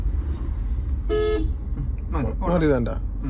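A car horn gives one short toot from an automatic car amid steady road and engine noise, followed by someone talking.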